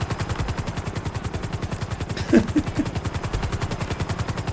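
A helicopter in the video game GTA 5 chops steadily with a fast, even rotor pulse, close and loud, with a few brief clunks partway through.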